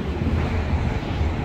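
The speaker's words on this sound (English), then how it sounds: "It's a bit windy today." Strong, steady wind buffets the microphone with a low, continuous rumble and no break.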